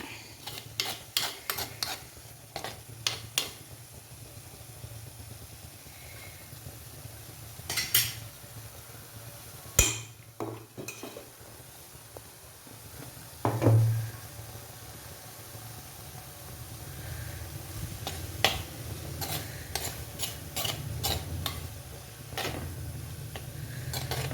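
Banana stem thoran being stirred with chilli in a pan, a spoon scraping and knocking against the metal in irregular bursts over a steady low hum, with a few sharper clinks standing out.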